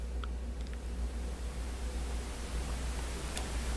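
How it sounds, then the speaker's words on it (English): A steady, even hiss of broadband noise fills the clip, softer in the highs than white noise, with a low hum beneath and a few faint ticks. "Now I'll put up pink noise."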